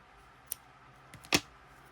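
Scissors snipping sewing yarn while stitching a stuffed bear's head onto its body, a single faint click followed by a louder close crisp cut, no talking.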